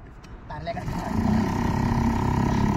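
A fishing boat's motor starts on the water off Karwar, its close roar swelling within the first second into a loud, steady droning run that holds to the end.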